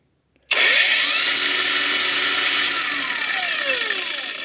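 A Yofidra-125 cordless angle grinder with a brushless motor spins up smoothly from silence to a steady, loud high-pitched whine, with no jolt, and holds at full speed for several seconds before easing off slightly.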